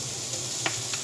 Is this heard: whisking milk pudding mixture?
no